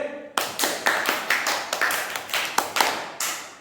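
A small audience in Nawada, Bihar claps for a balance-scale setup, a dozen or so distinct, fairly close handclaps in an uneven rhythm after a brief quiet start.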